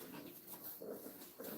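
French bulldog puppies make soft whimpers and faint panting at low volume, a few small yips rising briefly over a steady background hiss.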